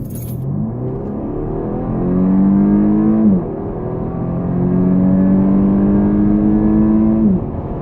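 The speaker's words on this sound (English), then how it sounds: "That was a moderately aggressive acceleration." A 2018 Audi A5 Sportback engine with an aftermarket intake accelerates hard in sport mode to about 80 mph, heard from inside the cabin, revs climbing steadily through two gear shifts with a steady rising whine.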